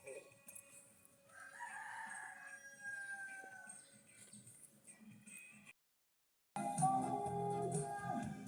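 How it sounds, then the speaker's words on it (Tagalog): Outdoor bird calls and chickens with a rooster crowing, fairly faint and distant, with soft talk in the background and a brief break before louder rustling. "Uy, may mga ibon, no?"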